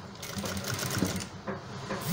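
A sewing machine stitches a shirt collar in a short, steady whirring run with light rhythmic clatter, close and moderately quiet.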